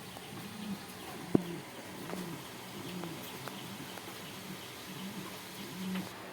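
Pigeons at a pigeon sale in Gazipur, Dhaka, give soft, repeated low coos, fairly faint against a quiet background, with one brief sharp knock near the start.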